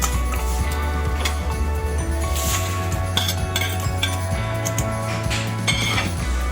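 A spoon stirs namkeen mix with raisins in a metal pan, a steady run of clinks and scrapes close up over a constant background hum.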